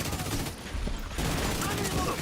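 Grenade launcher fire and explosions in the video game The Division, a dense, loud barrage of blasts and gunfire that fills the whole stretch, dipping briefly before building again.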